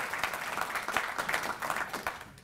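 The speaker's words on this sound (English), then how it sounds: "Let's give a round of applause." A crowd at the opening of the First Freedom Center in Richmond, Virginia, breaks into steady applause, a dense wash of many clapping hands sustained throughout with a slight swell.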